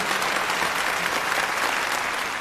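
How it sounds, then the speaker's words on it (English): Audience applause greets two 9-ball pool players as they enter, a dense steady wash of clapping from a large crowd that carries on without a break. "Let's give them a round of applause."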